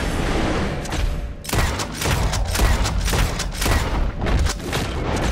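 Repeated loud gunshots ring out in a Red Dead Redemption 2 shootout near a cabin, several sharp reports spaced a second or so apart over a steady rumbling background.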